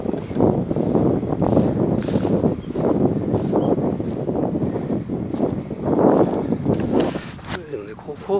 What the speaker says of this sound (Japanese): 風が強いけどね。